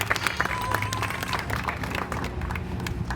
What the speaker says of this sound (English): How about a giant round of applause for the people that provide freedom to us each and every day and our safety.